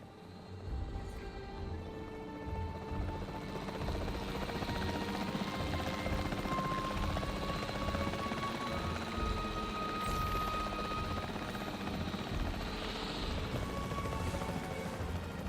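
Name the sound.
capture team helicopter flying, from the video game Jurassic World Evolution 3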